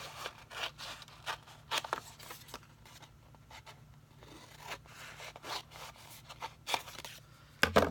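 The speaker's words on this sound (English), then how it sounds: "I'm actually going to cut this out." Paper card being cut with scissors, a series of close, crisp snips and rubbing scrapes in an uneven rhythm, with a louder cluster of snips near the end.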